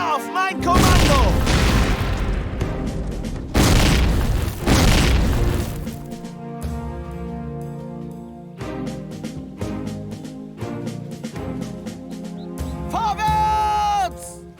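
Booming explosions and bursts of gunfire in the World War II game Faces of War arrive in heavy rolling blasts near the start, then quieter thuds and rumbles follow before a final burst, with shouted commands in between.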